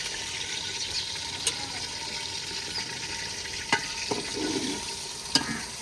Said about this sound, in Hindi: अभी इसको अच्छे तरीके से ब्राउन करते हैं घी के अंदर।